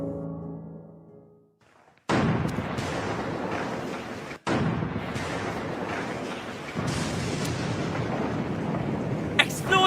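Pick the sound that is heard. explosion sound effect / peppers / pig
explosion sound effect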